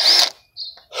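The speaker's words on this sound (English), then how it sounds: "You got the drill." A power drill gives two or three brief, sharp whirring bursts, close and loud, separated by short silences.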